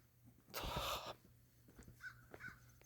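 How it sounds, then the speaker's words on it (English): A crow caws once outdoors on a Québec City street, a loud, harsh call that is fairly close, followed by faint scattered chirps and light ambient noise, with no speech. "Thanks, bird."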